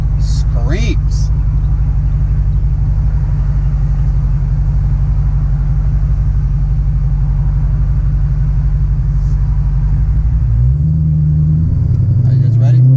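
Deep, steady rumble of a supercharged Dodge Hellcat with an aftermarket intake idling loudly up close, shifting pitch near the end, with a faint high supercharger whine above.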